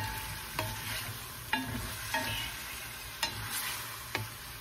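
Beef sautés for beef pares with sesame oil and soy sauce, a soft low sizzle broken by several sharp utensil taps and scrapes against the pan, no one talking.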